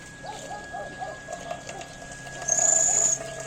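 A series of soft, low cooing calls repeats in a steady rhythm, followed by a thin, high-pitched tone near the end.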